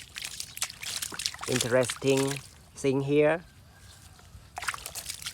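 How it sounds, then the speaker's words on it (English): Water poured over toy trucks and toy cars, a few short splashing pours with brief pauses between them, heard close up while a person talks. "Now I put some water at the same time so we can see some parts of any cars here."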